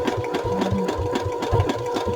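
A sewing machine runs at a desk during a craft project, a steady rapid mechanical chatter with rhythmic low thumps, close and even throughout without talk.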